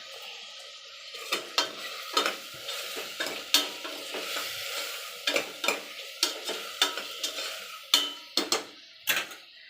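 Sliced tomatoes with salt being sautéed in a pan, a spoon scraping and stirring in repeated strokes over a soft sizzle, close and clear, no talk.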